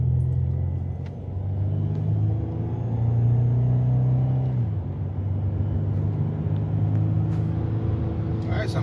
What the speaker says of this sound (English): we're going for a test drive to check the brakes out